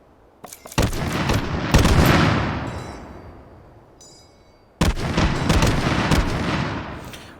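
Pinned grenades blow up in the VR shooter H3VR, two loud booming blasts a few seconds apart, each with a sharp crack and a long rumbling decay, preceded by small clicks and pops.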